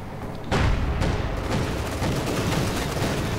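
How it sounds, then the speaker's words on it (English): Panzer IV tank cannon firing high explosive rounds in the strategy game Company of Heroes 2, a sudden loud boom followed by a dense, continuous rumble of battlefield gunfire and explosions. "Panzer IV blasting away, high explosive rounds flying through the air"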